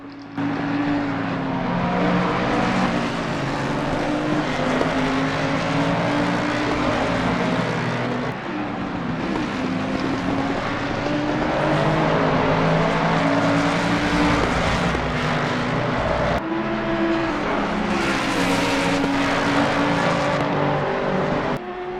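Race cars at Spa in Assetto Corsa Competizione roar continuously at full throttle, a dense pack of engines droning and shifting loudly for the whole stretch with no talk over them.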